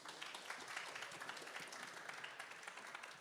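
An audience at an award ceremony for a start-up pitching final claps steadily throughout, a dense, even wash of many hands applauding together at moderate loudness.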